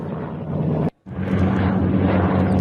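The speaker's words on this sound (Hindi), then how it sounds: "लापता पायलट की तलाश में लगातार अमेरिकी हेलीकॉप्टर हवा में उड़ते नजर आ रहे हैं" US military helicopters pass overhead during a search for a missing pilot, a loud steady rotor and engine drone with a low pulsing hum that cuts out briefly before resuming just as strongly.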